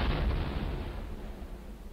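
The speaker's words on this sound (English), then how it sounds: "Oh, those cannons." Cannon artillery fire from the Battleground: Antietam video game, a dense, continuous booming rumble of distant guns that carries loud through the whole stretch, with no voices over it.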